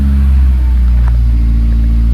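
A custom 1972 Datsun 510's engine runs with a steady, loud, low rumble throughout, close to the listener, with no clear cranking at the start.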